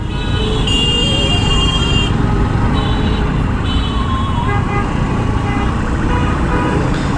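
Dense road traffic in a jam near Chauddagram, Comilla: a loud, constant rumble of engines with repeated car and truck horns sounding in bursts, some long, near and overlapping.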